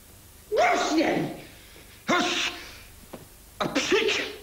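A person sneezes during an outtake from a Polish TV comedy set, in three short breathy bursts spaced a second or so apart, close to the microphone, over a quiet background.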